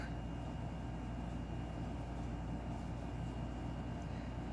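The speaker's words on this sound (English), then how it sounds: "If you guys can hear my AC," An air conditioner runs in a room, giving a faint, steady broadband hum and hiss with no change over the span and nothing else heard.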